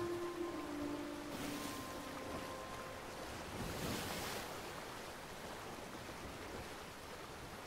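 Ocean waves and open-sea water in Sea of Thieves while sailing solo, a steady broadband wash of surf and wind that stays fairly constant throughout, with a faint tonal hum in the first few seconds.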